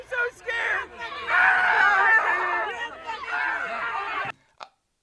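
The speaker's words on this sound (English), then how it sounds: "These people are going up to his face, screaming at him at the top of his lungs" Protesters scream and yell at a speaker outside his event at Penn State University, a dense, loud stretch of shouting voices and crowd clamor that breaks off abruptly near the end.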